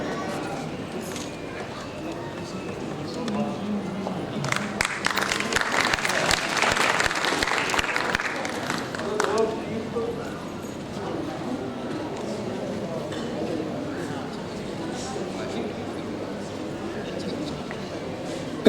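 An audience claps for people invited on stage at an honouring ceremony during Bundeli Mahotsav 2023, a dense burst of applause swelling for several seconds then fading, with someone talking over the hall before and after.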